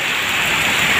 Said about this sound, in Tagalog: Ngayon lumakas ang ulan.